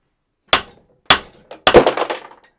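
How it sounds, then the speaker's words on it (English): A hammer strikes an engine part three times at roughly even intervals, each a sharp metallic clank with a short ring, the last blow followed by a brief rattle. "A hammer."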